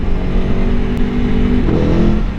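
A loud 2023 Aprilia Tuono V4 Factory motorcycle engine revving nearby, its deep throaty V4 exhaust rumbling steadily and briefly rising in pitch near the end.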